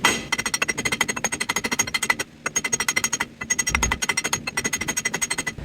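Rapid metal-on-metal hammer blows pound a seized wheel bearing hub assembly out of a 2nd-generation Ram truck, steady fast strikes in bursts with brief pauses, loud and close with no talking.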